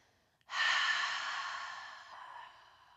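A single slow, breathy exhale during yoga breathing starts abruptly, holds steady and close for about two and a half seconds, then gradually fades out in a quiet room.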